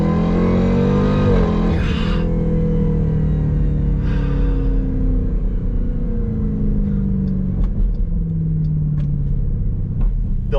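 A modified Jeep Trackhawk performance SUV accelerates hard on throttle out of a turn, its loud engine rumbling steadily with rising revs, close up and alone.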